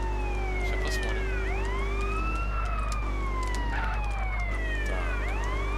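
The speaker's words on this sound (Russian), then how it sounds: "Так, включаем сирену." A police car siren in a video game wails loudly and close, with overlapping sweeping tones rising and falling over a heavy low engine drone.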